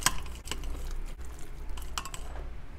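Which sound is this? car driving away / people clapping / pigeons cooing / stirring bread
stirring bread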